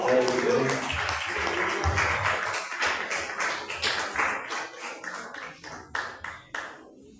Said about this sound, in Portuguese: A igreja recebe o servo de Deus com palmas de fé.